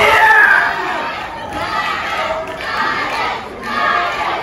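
A pro wrestling crowd at a TWF show chants and cheers for wrestler Titus Alexander, rhythmic group shouting that swells and dips in repeated waves, loud and close.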